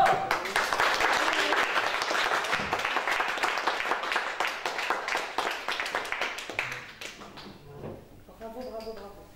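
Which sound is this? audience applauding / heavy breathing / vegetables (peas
audience applauding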